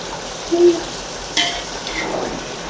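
Ginger garlic paste fries in a pan for chicken biryani: a soft sizzle is broken by a short scrape of stirring and a light metallic clink, close and fairly quiet, with no talking.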